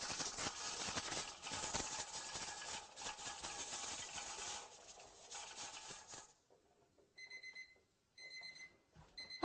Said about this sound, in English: Okay, our timer went off.